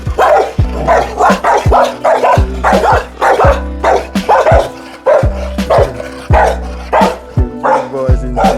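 Several big dogs bark loudly and close by in a steady run of deep barks with a few yips, set in a Seaview Gardens neighbourhood in Jamaica, with a voice talking over them.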